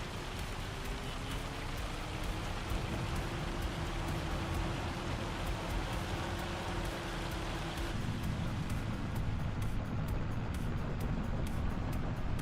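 Hail in the video game Farming Simulator 25 pelting down as a constant dense hiss and patter, loud and unbroken, with a low vehicle hum underneath.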